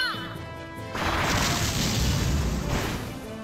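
Wind Cutter attack spell from the game Disgaea: a rising whoosh gives way to a loud, sustained rushing crash that holds for about two seconds before easing off.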